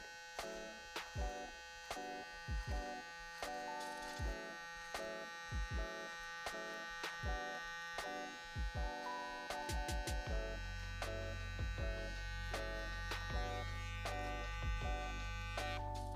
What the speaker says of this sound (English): use your clipper just to pull that through